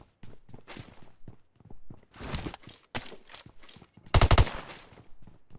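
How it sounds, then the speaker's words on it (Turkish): Bursts of gunfire in PUBG Mobile on the Livik map, with a loud rapid volley near the end, scattered shots and footstep-like clatter between. "Nereden silah sesi hemen?"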